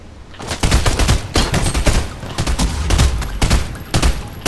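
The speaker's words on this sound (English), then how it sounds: "She's shooting people." Video game gunfire in rapid automatic bursts, loud and close, crackling continuously with short gaps between volleys and no talk over it.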